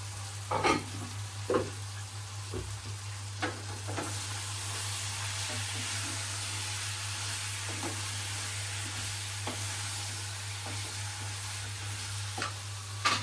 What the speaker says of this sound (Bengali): তোমার মাংস মশলাটা কষানো হয়ে গেছে না?